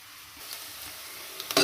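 Sliced onions fry quietly in a pan for a broad bean and tomato curry in a home kitchen. Soft sizzling is broken by a few sharp stirring scrapes near the end, with no talk.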